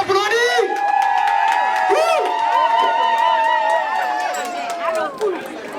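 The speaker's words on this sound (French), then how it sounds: "On les applaudit." A festive crowd at a Nigerien community celebration cheers and whoops for an arriving delegation of uniformed women from DC, Maryland and Virginia, loud and continuous, with voices shouting over the applause.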